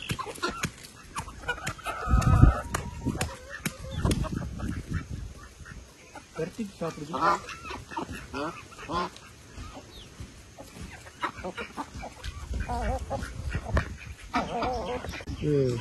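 Chickens cluck and call repeatedly in an outdoor yard, with ducks quacking nearby. The fowl sounds come in uneven bursts, loud and close, and a person talks at times among them.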